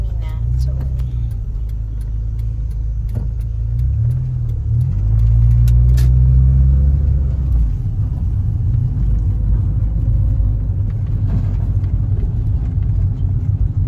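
Lowered Honda Civic with an open Japanese exhaust driving nearby, a steady deep rumbling drone that swells briefly as it accelerates, heard from a following car with people talking over it.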